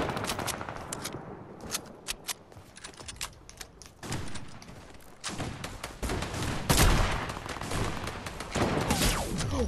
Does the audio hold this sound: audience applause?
no